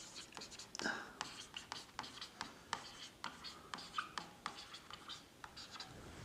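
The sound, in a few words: writing by hand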